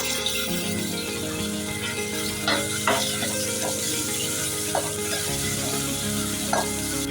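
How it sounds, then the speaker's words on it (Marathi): Green masala paste sautéing in a pan for a kingfish (surmai) thali, a low steady sizzle with a few soft stirring scrapes and clinks, close and moderate in level, no talk. "एक चमचा हिरवा वाटण आता हे परतवून घेऊया"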